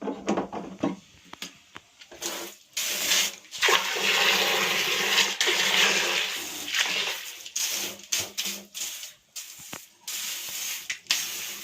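A bidet sprays water in a tiny house bathroom, a hissing rush that swells and holds for several seconds in the middle, framed by choppy splashes, clicks and short spurts, close and fairly loud.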